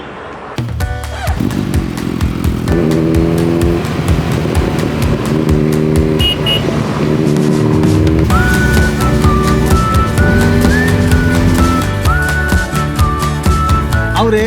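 A Suzuki Hayabusa superbike engine roars loudly and continuously nearby while riding, its steady droning pitch stepping up and down through gear changes without any break.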